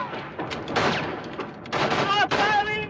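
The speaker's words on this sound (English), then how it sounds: "Stop firing!" Gunfire from a 1951 war film: several sharp broadband bursts ring out close and loud, mixed with shouting voices across the short scene.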